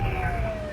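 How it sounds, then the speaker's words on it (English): Siren of fire engine 725 responding with lights and sirens, a single steady wailing tone gliding slowly downward, loud and close under a rumbling engine. "Engine 725 is responding code 3, meaning with lights and sirens."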